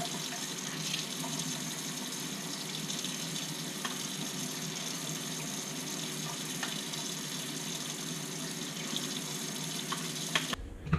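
Three tablespoons of water pour into a regular-size blender cup as a steady, close trickle and splash that lasts several seconds, then ends with a brief clunk.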